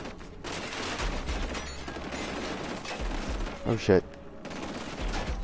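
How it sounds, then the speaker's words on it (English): Enemy gunfire in Killzone Shadow Fall crackles in rapid bursts around the player, mixed with game noise and a sharp louder shot near the middle; someone talks briefly over it. "where are they shooting at me from?"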